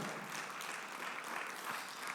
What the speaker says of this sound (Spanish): le damos un fuerte aplauso al Señor